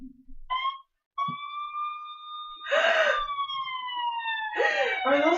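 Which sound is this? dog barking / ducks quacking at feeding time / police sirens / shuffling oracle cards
police sirens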